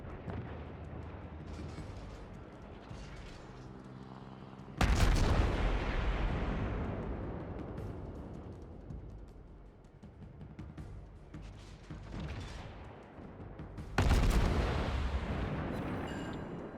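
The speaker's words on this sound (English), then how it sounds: "now he is using the island to shoot at the hipper" Chapayev cruiser guns in World of Warships fire at the Hipper from behind an island, two heavy broadband booms around five and fourteen seconds, each followed by a long rumbling decay over constant battle ambience.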